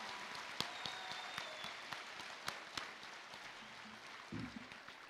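An audience at the Utah Virtual Academy 2023 graduation ceremony claps in a steady, dense patter that sounds somewhat distant and ends in a few seconds, with a brief murmur near the end.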